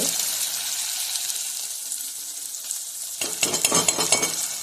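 Tomato masala with onion, garlic and Kashmiri chili powder frying in a pan, a steady close sizzle with louder scraping stirs in the last second and a half.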